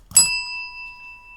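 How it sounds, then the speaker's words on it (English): A single bell struck once during a language lesson, a sharp close ding followed by a clear ringing tone that fades slowly into silence. "I give the English, I ring a bell."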